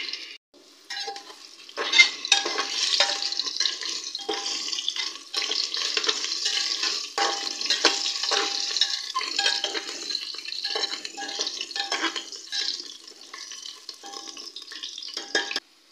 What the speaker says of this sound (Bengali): আমি আলুগুলো তেলের মধ্যে দিয়ে দিচ্ছি। দু থেকে 3 মিনিট আলুগুলোকে ভেজে নেব।